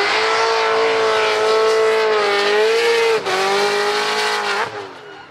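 A loud, close supercharged V8 drift car engine at a drift competition roars continuously with a rich droning tone, pitch wavering, two sharp shift-like breaks, then easing off at the end.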